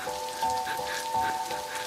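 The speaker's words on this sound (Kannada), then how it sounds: "ಈ ತರ ಮಳೆಲಿ ನೆನೀತಾ ಇರೋದು." Steady rain falls close by in a film scene, a dense even patter of drops on a surface with no voices over it.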